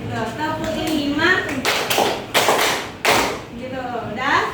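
Primary school children in a classroom clapping game clap sharply in unison, several distinct loud claps spaced irregularly and mixed with a teacher's speaking voice and children's chatter.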